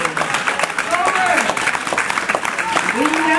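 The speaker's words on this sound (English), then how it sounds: "Oh, somebody clap your hands." A church congregation clapping their hands during a sermon, loud and energetic, with voices and shouts mixed in over the steady clatter of claps throughout.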